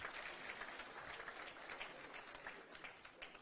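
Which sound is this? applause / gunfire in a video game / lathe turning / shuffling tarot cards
applause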